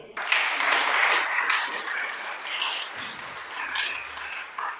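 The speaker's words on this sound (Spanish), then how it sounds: "Dale un aplauso al creador." Audience applause at a Torah teaching on the priestly blessing: a steady wash of clapping from a crowd, fairly loud and sustained for several seconds, with a low hum entering near the end.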